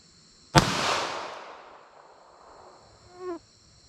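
A single sharp .380 ACP pistol shot cracks outdoors with a target 75 yards away, followed by a long decaying echo rolling off, then a faint short distant response, steady insect hum behind.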